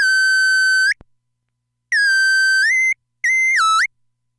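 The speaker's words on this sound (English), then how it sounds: "there's some noise or something going on in that mixer that eventually starts self-oscillating." Mackie 402-VLZ3 mixer with Boss DD-6 delay and MT-2 distortion pedals in a self-oscillating feedback loop, giving pure steady tones that cut off, return higher with rising glides, then bend up and down in a wobbling swoop, with a click in a gap.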